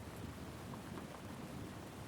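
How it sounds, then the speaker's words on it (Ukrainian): Rain falls outside a quiet library, a faint, steady, soft hiss of drops with a low rumbling background, continuous and without any voices. "У бібліотеці було тихо, лише чутно було шум дощу."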